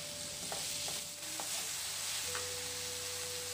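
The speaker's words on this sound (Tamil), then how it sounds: "கட் பண்ணி நல்லா வதக்கிக்கறேன்" Chopped tomatoes and onions sautéing in a pan for onion chutney, a steady close sizzle with a few soft stirring taps and a faint background hum, no talking.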